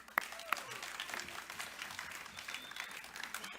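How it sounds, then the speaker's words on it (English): A sports awards audience gives the team a round of applause, a soft, distant patter of clapping with a couple of sharper claps near the start, while a voice talks faintly over it. "Can we give them a round of applause, please?"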